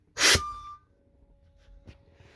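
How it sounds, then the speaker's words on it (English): Air brakes on a Vogue motorhome release with a loud hiss of escaping air, followed by a quieter second hiss a moment later, with the engine off. "You want to release the brakes."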